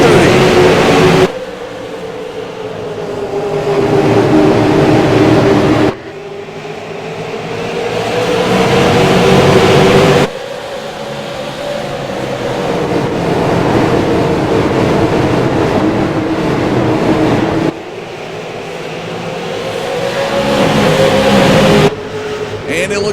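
Race cars in the SARA Button Box Shop Super Series at Lucas Oil Raceway accelerating off turn four onto the front stretch at a green-flag restart; loud engines roar and rise in repeated waves as cars pass, with an announcer talking over them.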